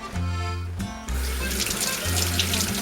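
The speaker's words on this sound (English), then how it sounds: "Then I'm gonna rinse my hands," Hands rinsed under a running kitchen tap after chopping jalapeño, a loud steady rush of water that is briefly interrupted and then resumes, close by with no talking.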